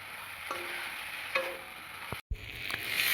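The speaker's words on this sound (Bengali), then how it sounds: "দিয়ে নাড়াচাড়া করে নেব" Fried eggplant and puti fish curry are stirred in a hot pan, with a soft sizzle and a few scraping strokes over about three seconds.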